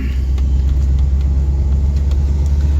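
A classic car with power steering, power brakes and air conditioning drives along a road, its engine and tyres making a steady, loud, low rumble with no voices.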